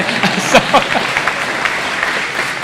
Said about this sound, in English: Everybody clap, yay, Shane.